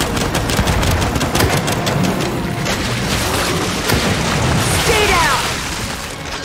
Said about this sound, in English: Does every carrier burst apart like that?